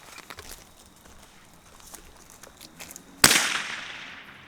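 A single sharp .22LR rifle shot fired at a long-range target, a crisp crack after a few seconds of quiet outdoor rustling, trailing off in a short ringing decay.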